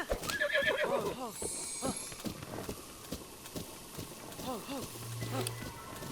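A horse from Zelda Breath of the Wild whinnies in a repeated neigh, amid the clip-clop of hooves and game ambience. The calls are fairly close and stand out over the background noise.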